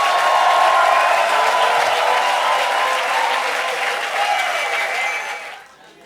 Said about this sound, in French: Donne une bonne main d'acclamation, s'il vous plaît. On peut pousser des cris de joie.